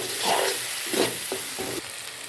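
Eggplant and potatoes frying with garlic paste in a pan, a bright hiss with a few stirring bursts over a couple of seconds, no voices.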